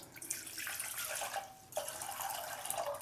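Water poured into a cooking pot while making tamarind kulambu, a steady close splashing stream that shifts pitch as it fills, with a short pause midway and no talk.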